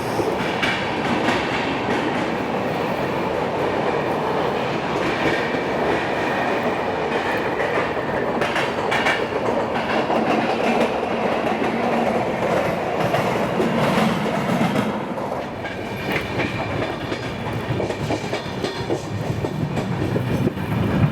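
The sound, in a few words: Vidarbha Express train running on rails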